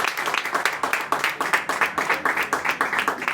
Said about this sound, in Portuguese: Aplauda Ele forte